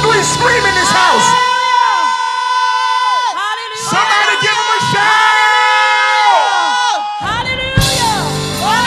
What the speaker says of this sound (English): At the count of three, Evangel Temple, open your mouth and scream.